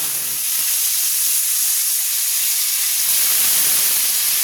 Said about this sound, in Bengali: আমি জিরের ফোড়ন দেব, সাদা জিরে।